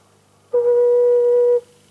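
A stopped flute pipe on the Saint-Eustache church organ sounds one steady, pure, low tone for about a second, starting and stopping cleanly against a quiet room.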